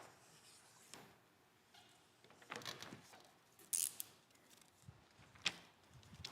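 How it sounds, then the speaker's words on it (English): Knife slicing through window tint film on a car's back window: quiet intermittent scrapes and sharp ticks, a few louder cuts near the end, alone with no talk. "Take a knife, and then we're gonna trim this off."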